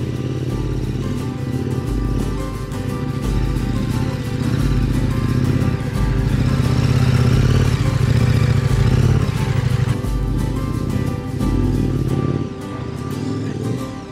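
A motorcycle engine drones steadily under a rider standing up on the bike during an Indonesian moto adventure safari, a loud continuous low rumble with small swells in revs throughout.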